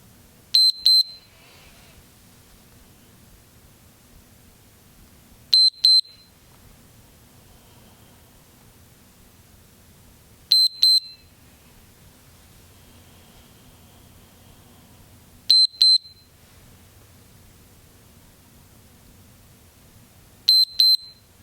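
An exercise timer's alarm gives short, high double beeps at a steady interval of about five seconds, five bursts in all, with quiet hiss and faint room noise between them.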